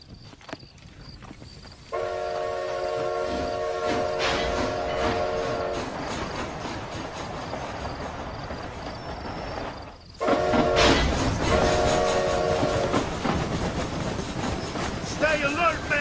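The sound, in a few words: train running, from Red Dead Redemption Undead Nightmare video game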